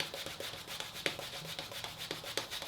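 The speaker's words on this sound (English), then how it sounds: "I can fully hone a wedge with 15 strokes, 15 laps" A straight razor wedge is honed on a Nakayama Hon Suita natural whetstone, a soft, steady rubbing with repeated stroke pulses at an even rhythm, close and quiet, with no talking.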